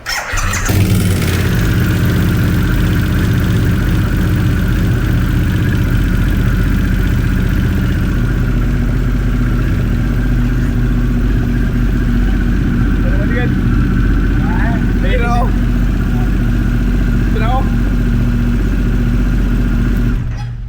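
A Harley-Davidson Dyna Big Bear motorcycle idles loud and close, a deep, steady rumble holding an even throb throughout, with a few brief high squeaks partway through.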